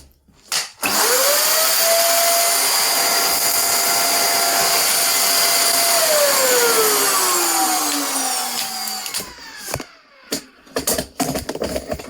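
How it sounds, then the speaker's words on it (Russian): A loud vacuum cleaner starts up and runs steadily while cleaning out a DeLonghi ESAM coffee machine grinder, its motor whine holding then dropping in pitch before shutting off, followed by a few clicks and knocks. "Так, сначала мы пропылесосим."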